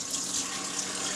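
Hot water runs from a sink tap into a cast iron pan, a steady hissing stream that is close and moderately loud, continuous throughout with no talking.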